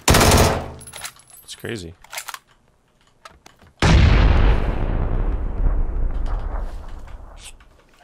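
M16 rifle fire in PUBG, with loud close bursts of rapid shots at the start, a short lull, then a heavy sustained roar of fire slowly fading, while someone speaks briefly.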